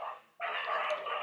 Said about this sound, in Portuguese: cachorros na rua